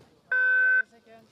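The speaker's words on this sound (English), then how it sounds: "30-second beep." A single sustained electronic start beep at a para alpine downhill race, the 30-second warning tone at the start hut, steady and clean for about half a second, with faint commentary murmur around it.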